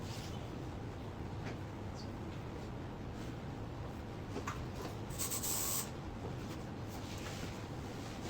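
A fine hair spray mists over a styled hairdo during a salon styling session, a soft steady hiss running close and alone for several seconds, briefly louder near the end.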